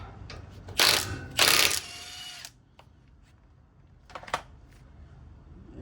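A ratchet wrench backs a nut off the suspension of a 2023 Ford F-150 Platinum, heard as two loud, close bursts of rapid clicking early on, then a quieter pause and a short final run of clicks, with no talking.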